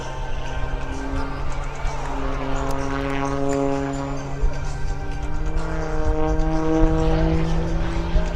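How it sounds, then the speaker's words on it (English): A one-of-a-kind aerobatic aircraft performing a forward flip at the 2012 Rhode Island airshow at Quonset, its engine droning loud and steady with pitch sweeping up and down through the manoeuvre, a voice commentating over it. "now performs a forward flip in this one-of-a-kind aircraft"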